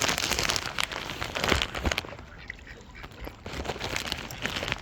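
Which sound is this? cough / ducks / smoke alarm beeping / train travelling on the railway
ducks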